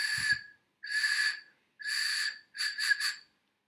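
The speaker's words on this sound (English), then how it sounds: "I have a pen cap in which I'm trying to blow and maybe create some air stream, air whistle." A pen cap blown across its open end makes a clear, airy whistle tone. There are four separate blows, each about half a second to a second long with short silences between, and the last one breaks into three quick pulses.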